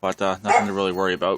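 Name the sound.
dog barking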